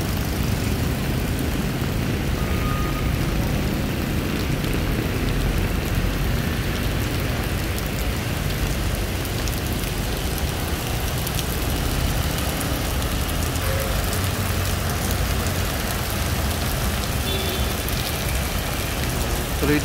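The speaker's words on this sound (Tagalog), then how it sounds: "Tuloy-tuloy pang ulan ngayon." Continuous rain falls by the Marikina River during a storm, a dense, unbroken hiss of rainfall that stays loud and even throughout with no voices.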